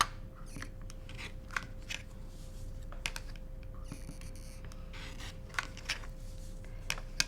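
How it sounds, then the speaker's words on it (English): Scissors snip loose threads from a sewn quilt block in several quiet, irregular cuts, close by with no talking. "I'm going to trim this up because there's all these threads here"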